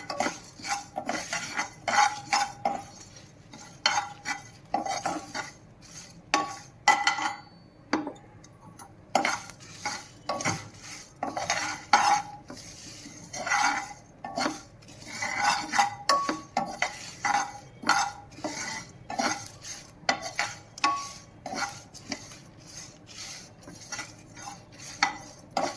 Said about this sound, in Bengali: এবার এগুলো একটু নেড়ে ছেড়ে নেবো